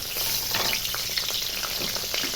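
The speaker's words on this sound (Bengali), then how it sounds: "তেলেই আমি এই যে দারচিনি, এলাচ, লঙ্কা দিয়ে দিচ্ছি আগে।" Cinnamon, cardamom and chilli fry in hot oil with a close, continuous sizzle and scattered crackling pops, with no voices.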